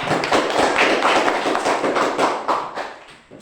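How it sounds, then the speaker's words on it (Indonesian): Students in a classroom give a round of brisk, dense clapping that stays loud and steady before tapering off at the end, with little talk underneath. "Tepuk tangan dulu untuk"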